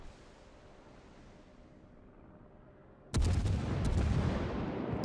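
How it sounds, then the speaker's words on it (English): Naval artillery in World of Warships fires from a Charles Martel tier 8 French cruiser battle: after quiet ambience, a loud heavy booming salvo bursts in and rolls on as a sustained rumbling barrage. "I've got an Algeria firing on me as well"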